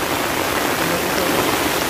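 Heavy rain pours steadily during a rainy-day harvest, a dense unbroken hiss like a downpour close by, loud and continuous with no pauses or voices.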